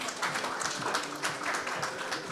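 Seminar audience applauding to welcome a presenter at an energy policy event, a steady dense patter of clapping that holds evenly at moderate level throughout.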